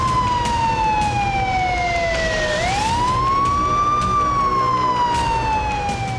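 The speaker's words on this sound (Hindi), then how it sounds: "घायलों की मदद के लिए एम्बुलेंस सायरन बजाती और बत्तियां जलाती हुई दौड़ती दिखाई देने लगी।" A loud wailing siren sweeps slowly down and then back up in pitch, steady and close, over a background of traffic noise.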